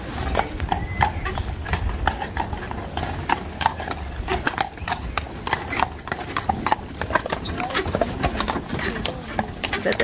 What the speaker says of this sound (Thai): มีม้าด้วยนะคะมีม้าโบราณ